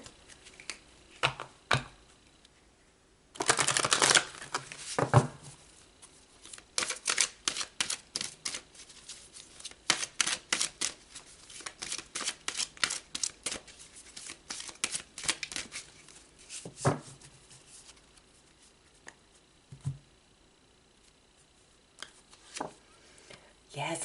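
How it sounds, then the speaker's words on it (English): Tarot cards are shuffled and pulled in quick crisp riffles and snapping flicks, close and fairly quiet, in bursts separated by brief pauses. "let's pull some more cards and go deeper"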